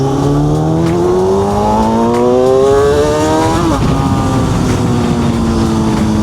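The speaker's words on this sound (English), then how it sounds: "This fucking scream of that 636 engine just down the road." A 22-year-old Kawasaki 636 stunt bike engine screams close by, a loud sustained high-revving wail that climbs in pitch, briefly dips with a gear change, then holds steady; no talk.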